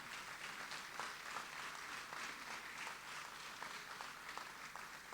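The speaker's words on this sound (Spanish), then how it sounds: "Dale un fuerte aplauso al Señor." Faint, steady applause from a church congregation during a Spanish-language sermon, a soft continuous patter of clapping at a distance, with no talk over it.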